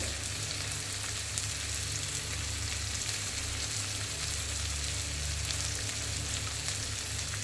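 Onions frying in a pan with light salt and turmeric while cooking a kochu and fish dish, a steady dense sizzle throughout with no talk.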